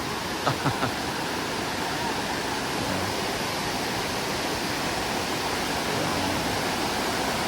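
Dunn's River Falls in Jamaica roars as a steady, dense wash of falling water, loud and close, with a few faint knocks near the start and no clear speech.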